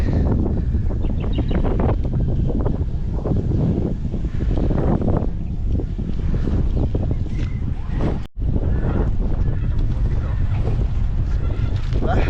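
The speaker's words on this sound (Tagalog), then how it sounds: "Sarap ng hangin." Steady, loud wind roars across the microphone throughout, with gusty buffeting and a brief dropout partway through.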